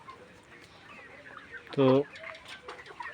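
A hen gives a single loud, short cluck close by, set against quiet background noise and a brief spoken word.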